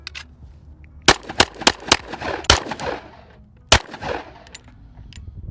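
A string of sharp, close pistol gunshots from a custom Glock 45 fires in a fast irregular burst of about six shots, then a pause and one more shot, each with a short echo.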